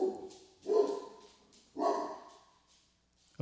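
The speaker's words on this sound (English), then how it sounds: "Apparently, the dogs are upset." Dogs bark nearby in a handful of loud, separate bursts spaced under a second apart, each trailing off, with a brief sharp sound at the end and no talk.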